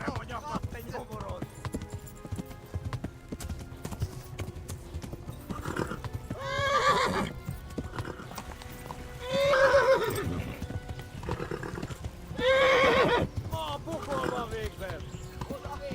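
Steady clip-clop of a galloping horse in the video game Kingdom Come: Deliverance, with several loud neighs and whinnies breaking through, while people talk over it throughout.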